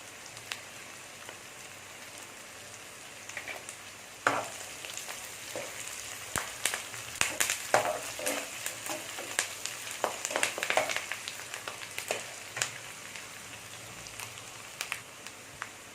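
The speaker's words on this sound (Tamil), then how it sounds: "வெங்காயம் நல்லா வதங்கிருச்சு" Chopped onions, green chillies and curry leaves sizzle steadily in a pan of hot oil for vada curry, a continuous close crackle with scattered sharper pops and occasional stirring scrapes.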